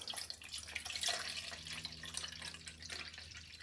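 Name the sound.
pouring bottled water into a measuring cup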